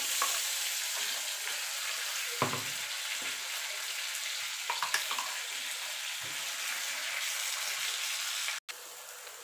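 Prawns fry in a wok as taro leaf paste is added, a steady faint hiss and sizzle with occasional stirring scrapes and a couple of soft knocks; no voices.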